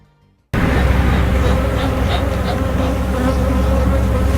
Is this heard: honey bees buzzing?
yes